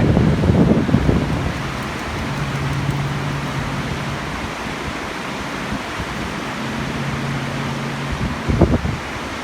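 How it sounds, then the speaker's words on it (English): Steady wind blows along the Karangahake Gorge historic walkway in New Zealand as a broad, even rush of noise, with a couple of brief louder gusts near the start and end and no voices. "Wind's picked up a little bit."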